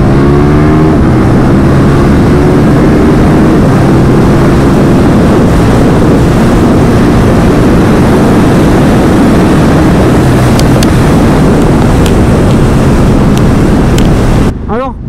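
Loud, close KTM 1290 Super Duke R motorcycle accelerating hard on an open road, engine roar rising steadily with quickshifter upshifts and heavy wind rush throughout, cutting off abruptly at the end.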